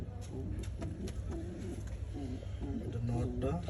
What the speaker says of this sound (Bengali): এই যে আমার লাল কবুতর আরেক জোড়া, এটা আলহামদুলিল্লাহ ডিম দিছে